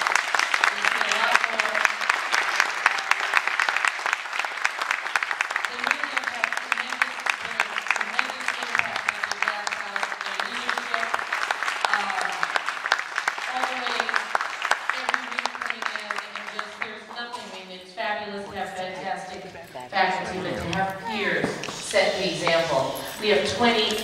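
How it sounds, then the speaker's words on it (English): Audience at a big band concert applauding seniors, a dense sustained round of clapping that carries on for a long stretch, with cheers and a voice speaking over the tail end. "Let's give them a round of applause."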